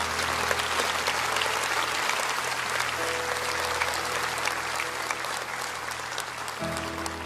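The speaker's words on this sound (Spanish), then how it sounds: "No dejen de darles ese aplauso" A church congregation applauds steadily and loudly at a worship service, dense clapping filling the room throughout, with a low sustained musical tone underneath.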